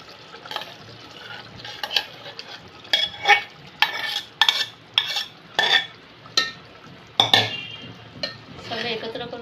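Marinated vegetables go into a simmering gravy for veg biryani as a spoon stirs the pan in repeated scraping strokes, with a close, steady sizzle between them.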